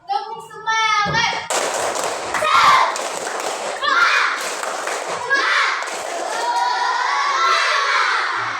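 An elementary school class doing the rhythmic 'tepuk semangat' spirit clap, loud bursts of children's clapping mixed with shouted chanting voices, repeated in several close phrases.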